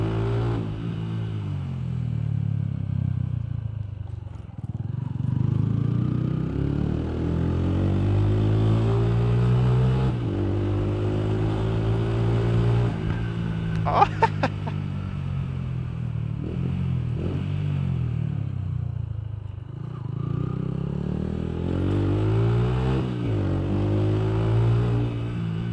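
Motorcycle being ridden, a steady engine drone with repeated rising and falling revs as the rider speeds up and eases off, close and continuous, with brief clatter in the middle.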